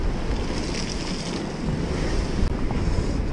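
Strong wind pushes waves against the coast at Yamido, Gunsan, during a blustery fishing outing, making a dense, steady rushing roar with one brief dip.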